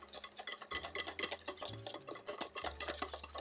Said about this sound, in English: If you like it more lemony, go ahead and put more lemon juice in there. And all you do with that is just whisk it in.